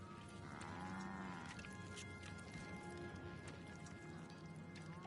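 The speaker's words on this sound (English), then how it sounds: "Why are there cows?" Cows moo aboard a spaceship in the video game The Outer Worlds, low drawn-out calls that are faint and distant over a steady mechanical hum, with no talking.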